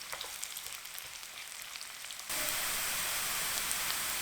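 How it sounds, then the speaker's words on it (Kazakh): Onion frying in hot oil in a pan for a Kazakh borscht: a quiet hiss that abruptly swells into a loud, steady crackling sizzle partway through, with no voices. "Қысқа уақытта қуырыңыз."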